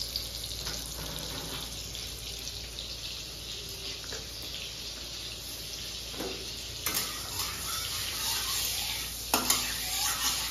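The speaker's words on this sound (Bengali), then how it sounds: "ও, বাটার দিলাম, একটু সাদা তেল দিয়েছি।" Butter and white oil sizzle in a pan at the start of a chicken stew: a continuous, fairly quiet frying hiss punctuated by a few sharp utensil clinks.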